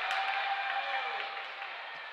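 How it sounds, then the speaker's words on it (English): Loud, sustained crowd roar at a boys' high school basketball game, a dense wash of cheering that slowly fades over a couple of seconds, with no distinct voices standing out. "the crowd got really loud"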